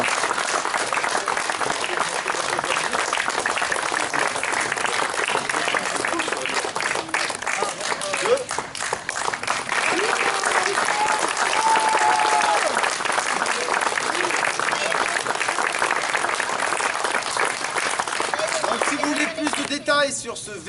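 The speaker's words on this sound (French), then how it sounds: "Vous pouvez applaudir tous les comédiens." Sustained audience applause for the actors at a heritage-day show in Guignes, France, a thick continuous clapping that holds steady for a long stretch while voices talk and call out over it.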